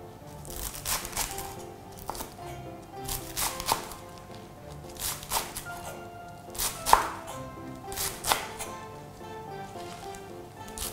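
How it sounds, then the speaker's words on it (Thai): A knife slices garlic chives into short pieces on a cutting board for Thai chive dumplings, with a run of close, crisp chops in uneven bursts and small pauses between them. "แล้วก็ซอยกุยช่ายเนี่ยให้ความยาวเนี่ยประมาณครึ่งเซนติเมตรถึง1เซนติเมตรค่ะก็หั่นเลย"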